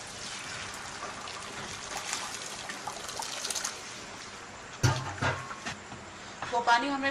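Hot water is poured off boiled chow mein noodles in a kitchen, a soft trickling and splashing stream with a louder gush partway through, while a voice talks over it at moderate volume.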